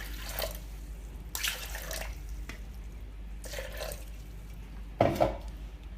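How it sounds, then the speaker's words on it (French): Water is poured in short splashy bursts into a Thermomix bowl, four or five separate pours with brief gaps, close and fairly soft over a low background hum. "Donc je commence par mettre 400 g d'eau."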